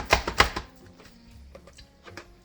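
A knife chopping mushrooms finely on a board: a quick burst of sharp taps followed by softer, scattered cuts, close and with no talk.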